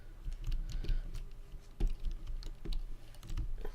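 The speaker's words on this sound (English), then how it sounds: "you're going to hear my mouse just shuffling away there" A computer mouse and keyboard clatter during War Thunder play, with irregular close clicks and shuffling taps repeating across the stretch, no voices.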